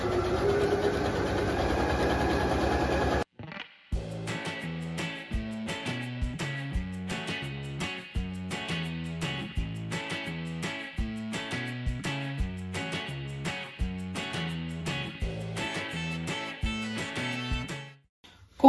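Sewing machine with stitch length 3.5 stitching straight quilting all around the edge, a steady rhythmic mechanical pulsing after a short burst of continuous whirring, close and unbroken.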